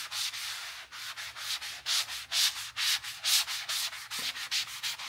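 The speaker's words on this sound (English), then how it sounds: "I'm going to rub it over the headlights here." Plastic X being rubbed onto car headlights with a sponge, heard as rhythmic back-and-forth scrubbing strokes, about a dozen in a steady pulse, close and fairly loud with no talking.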